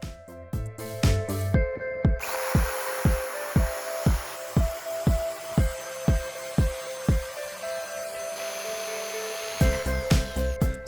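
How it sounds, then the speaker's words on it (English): A rivet nut tool sets threaded inserts into the metal bed frame of a Mazda Bongo van, giving a steady run of sharp, evenly spaced clacks roughly every half second over a constant mechanical hum, close and moderately loud. "I'm using a riv nutter. So this embeds a little nut into the frame."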